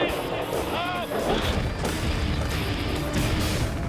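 A $2 million racing powerboat carrying two pilots flips violently on the water, a loud, continuous roar of crashing spray and hull impacts with a brief shout partway through.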